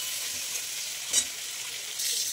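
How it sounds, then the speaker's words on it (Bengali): Leafy greens and vegetables frying in a pan with salt, turmeric and sugar: steady close sizzle with a brief stirring scrape midway and slightly louder crackle toward the end. "আর একটু ভাজা ভাজা করে দেবো"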